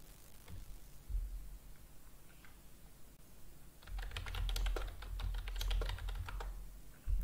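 Someone types a search for a code editor into a web browser on a computer keyboard: a quick, quiet burst of close keystrokes with no talking.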